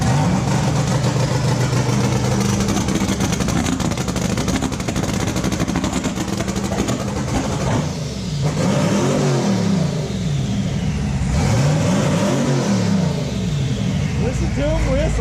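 A twin-turbo LS-swapped third-generation Camaro runs loudly in a garage, its engine rumbling and revving with a high turbo whistle riding over it while people talk nearby.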